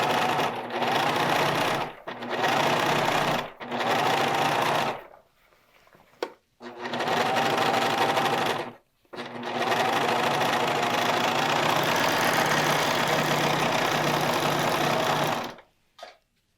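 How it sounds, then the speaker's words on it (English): Serger overlock machine stitching around the edge of a sleeve, running in loud steady bursts of rapid mechanical whirring broken by short pauses, then a long continuous run before stopping, close by. "We're just gonna serge around our sleeve."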